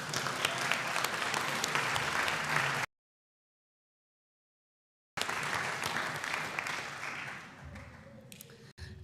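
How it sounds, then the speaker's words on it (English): A Sunday service congregation applauds its instructors, clapping filling the room for a few seconds, then a stretch of silence before applause resumes and gradually thins out. "And another round of applause for our awesome instructors."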